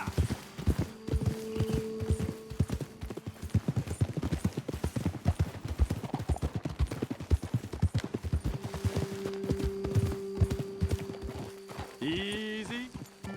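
Steady clip-clop of horse hooves at a brisk trot in Red Dead Redemption 2, close and rhythmic, with a low droning hum in the background and a brief whinny-like tone near the end.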